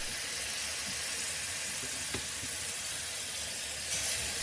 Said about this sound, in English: Stir through and fry for another minute.